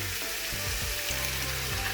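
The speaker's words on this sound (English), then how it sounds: "And now we're going to add 4 cups of water. Now this is going to steam." Water poured onto browned beef in a hot frying pan sets off a loud, steady sizzle with steam, continuous and close, with no one talking.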